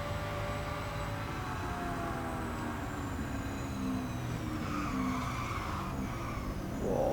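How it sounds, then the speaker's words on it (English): Hennessey Venom GT in the Real Racing 3 racing game skidding with long squealing tires over a steady engine drone, sustained and fairly loud, with the pitch of the squeal sliding up and down. "that was skidding all over the place"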